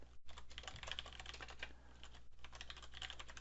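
Rapid, steady keyboard typing, each keystroke close and crisp, continuing unbroken with no voices over a faint hum.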